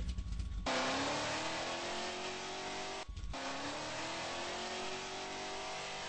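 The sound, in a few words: car engine shifting up a gear in a driving video game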